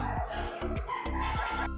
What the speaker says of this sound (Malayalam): നല്ല നായ്ക്കളെ ശബ്ദം കേൾക്കുന്നുണ്ടോ വീഡിയോയിൽ നല്ല വ്യക്തമായിട്ട് തന്നെ കേൾക്കാം